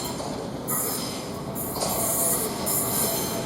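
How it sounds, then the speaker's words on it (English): A Southeastern Class 395 train passes through Rochester station with a loud, steady roar of wheels on rail, and high wheel squeals rise and fall close by. "Now we get another Southeastern service from Rampant to London St Pancras International with the 11:32 service."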